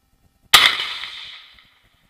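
A single sharp gunshot in a Ukrainian war zone near Uglegorsk, loud and close, cracking suddenly after silence and ringing out in a decaying tail for about a second.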